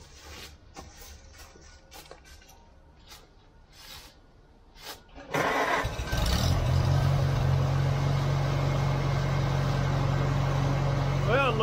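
A Farmall Cub tractor engine cranks after a quiet stretch of faint shuffling, catches about halfway through, and settles into a loud, steady running drone close by that continues to the end.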